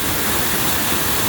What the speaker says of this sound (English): This is Tamula Waterfalls outside of Bend, Oregon.